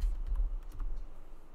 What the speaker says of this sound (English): typing in your password,